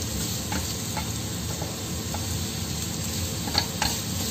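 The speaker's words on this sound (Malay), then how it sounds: "Wortelnya kita tumis dulu." Carrots sautéing in a pan, a constant close sizzle with occasional light ticks and taps from a spatula, loud and steady without speech.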